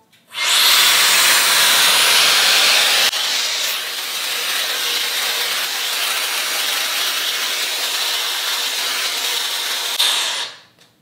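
Shark FlexStyle hair styler blowing air in a loud, steady, close-up hissing whoosh that runs about ten seconds, dips slightly partway through, then cuts off, with no talking.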